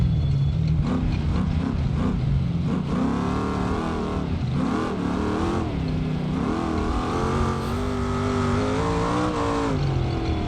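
Dune Kicker off-road buggy in BeamNG.Drive revving and accelerating across desert terrain at Johnson Valley, a continuous loud engine note rising and falling with gear changes, close and steady throughout with no talking.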